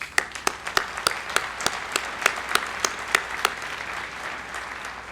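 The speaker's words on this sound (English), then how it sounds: "I'd like to give you a round of applause for doing that." A graduation ceremony audience breaks into applause: sparse, distinct hand claps at first that build slightly into a moderate, fairly distant round of clapping in a large hall.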